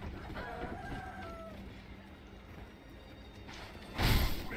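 Chickens in Sekiro: Shadows Die Twice give a couple of short, rising clucks and crow-like calls near the start. A faint ambient bed runs underneath, and a louder burst of game noise comes near the end.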